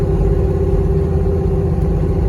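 A car engine runs steadily and loud nearby, a close mid-pitched hum with slight clatter and no talk, heard from a 1995 Ford Mustang 600-horsepower street car at a drag strip.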